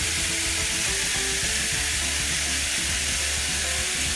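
Garlic sizzles steadily in a hot frying pan while veal and beef filling for stuffed eggplant is made, a loud, dense, continuous frying hiss without pauses, close up and with no voices.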